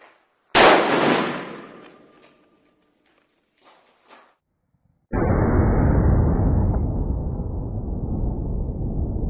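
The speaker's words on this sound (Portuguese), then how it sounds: "com um revólver 6 polegadas, também em calibre 357, mesma munição semi-enjaquetada, ponta plana, a uma distância de 4 metros" A six-inch .357 Magnum revolver fires a flat-nosed semi-jacketed round into a clay block from four metres at a shooting range: one loud, sharp report with a decaying tail, a couple of faint knocks, then sustained broad roaring noise.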